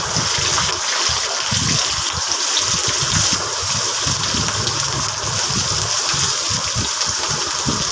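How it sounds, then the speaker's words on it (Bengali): Onions dropped into hot cooking oil fry with a dense, steady sizzle and crackle that stays close and constant throughout, with no talking. "আমার তেলটা কিন্তু গরম হয়ে গেছে আমি এবার পেঁয়াজগুলো দিয়ে দেব"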